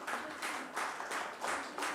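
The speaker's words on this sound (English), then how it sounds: "Please give them a big hand, ladies and gentlemen." A live audience claps and applauds for winners standing on stage, dense steady clapping that swells and ebbs in waves, loud and close, with no talk over it.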